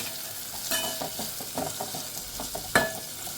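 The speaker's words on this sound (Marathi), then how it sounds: "आता हे परत छान असं परतून घ्यायचं आहे." Cabbage bhaji masala with salt being stir-fried in a pan, a soft continuous sizzle under repeated spatula scrapes and clinks in an uneven rhythm, one sharper knock near the end.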